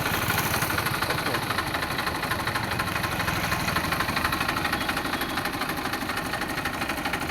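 A tractor engine idles, steady and loud, with a constant rumbling, rattling vibration that runs throughout. It is close and has no clear speech over it.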